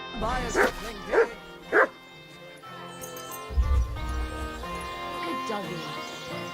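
Dog barking in the medieval role-playing game Kingdom Come: Deliverance II: three sharp barks close by in quick succession, then quieter yips and whimpers over a steady ambient music bed.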